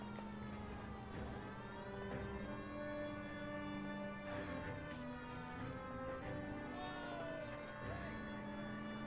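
A police car siren in the video game L.A. Noire wails, rising and falling steadily over engine noise, fairly faint and distant, with game-like ambience underneath.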